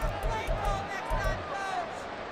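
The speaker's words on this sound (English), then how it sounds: "Listen to this crowd now." Stadium crowd at an Eagles vs Bills football game during a late two-point conversion, a broad roar of many voices swelling in waves, with close commentary talk over it.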